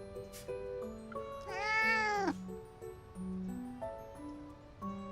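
A cat meows in the romance video game Love and Deepspace, with one drawn-out, rising-and-falling meow standing out clearly over soft background game music.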